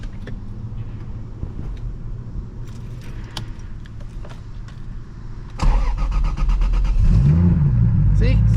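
A 600 hp Lexus IS300 sleeper starts up after keys jangle and faint cabin noise, cranking then catching into a loud, rough idle with a brief rev as the engine settles.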